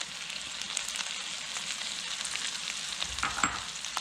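Corn and par-cooked lima beans sizzle and crackle in a hot pan for a creamy chicken succotash, with a steady fry and soft scraping as they are stirred, moderately close.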